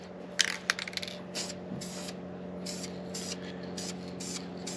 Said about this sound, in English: we're supposed to spray it this way, and then diagonal as well